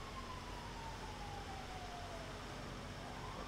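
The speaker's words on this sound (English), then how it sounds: "I hear sirens, bro." Emergency sirens in a roleplay driving video game, a faint wailing tone that slowly sweeps downward over a steady background hum, distant and quiet with no talk.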